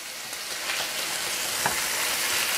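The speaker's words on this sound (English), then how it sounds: "I feel like I'm sort of yelling above the sizzle" Food sizzles and crackles steadily in a hot pan, a loud, close hiss with scattered pops and no talking.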